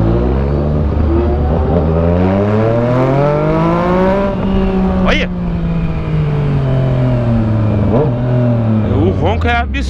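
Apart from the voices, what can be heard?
Yamaha MT-09 motorcycle engine revving loudly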